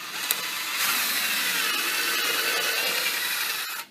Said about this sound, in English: So let's go ahead and drill our hole.